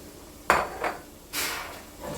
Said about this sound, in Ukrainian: Тепер сюди додаю бекон. І також все перемішую гарно